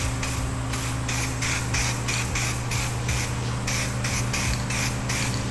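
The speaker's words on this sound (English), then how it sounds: "We're gonna throw a coat of primer." Primer sprayed onto a Harley Softail bracket, a steady close hiss with short repeated bursts of the spray can or gun over a low hum in the background.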